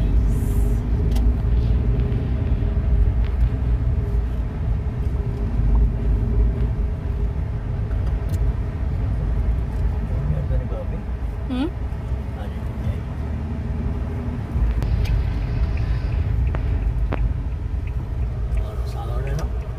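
Rush hour road traffic near a plaza in a Philippine city rumbles steadily for the whole stretch, with engines droning and passing vehicles blending into a dense low roar while people talk.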